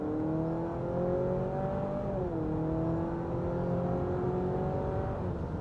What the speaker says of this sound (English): you still have great ability to accelerate with this CR-V hybrid